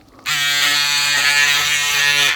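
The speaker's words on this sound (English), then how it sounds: "I did notice underneath the nose area is quite easy with the shaver because of the small head" A Braun Series 7 360 Flex electric shaver switches on and runs with a steady, loud, close buzzing whine that holds constant for about two seconds, with no talk.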